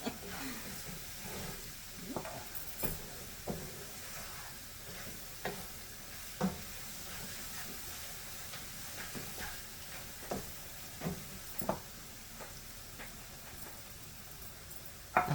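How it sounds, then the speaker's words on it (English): Ground beef sizzles steadily in butter and fat in a pan, with a spoon or spatula scraping and stirring in irregular knocks every second or so; close and fairly quiet, with people talking softly at times. "get all of that meat coated with the butter and the fat"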